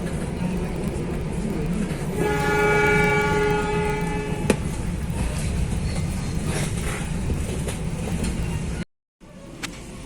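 Inside an Indonesian passenger train near Ciamis as the Argo Wilis from Surabaya Gubeng passes, a steady loud rumble of wheels with a sustained horn blast early on and brief clacks.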